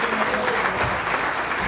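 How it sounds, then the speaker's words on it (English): Church youth revival audience clapping hands, a dense steady wash of applause over about two seconds with faint voices mixed in. "Somebody clap your hands for Jesus"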